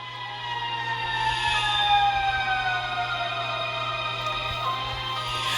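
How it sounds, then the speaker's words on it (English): A fire engine siren wails steadily at a distance, its pitch sweeping up and down over a constant low hum. "I had to pause that video because you hear some sirens going on."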